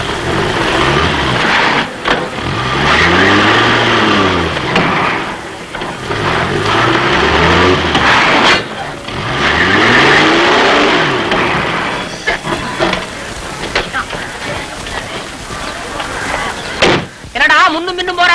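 A car engine revs up and down repeatedly as the car moves back and forth at a car workshop, in an old Tamil comedy scene, with people talking over it and a door thud near the end.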